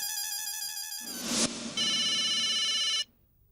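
A telephone rings as a call is placed, with a bright repeating electronic ringtone that cuts out and switches to a second tone before stopping abruptly, loud and alone.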